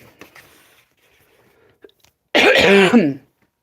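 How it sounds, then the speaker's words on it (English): A single loud, rough cough erupts after a few faint scuffles and soft noises, lasting under a second before things go quiet. "Probably going to be coughing a lot."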